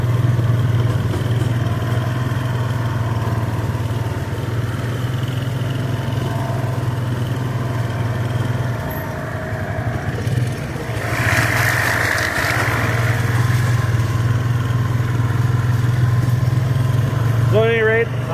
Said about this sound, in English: I'm going to continue on mowing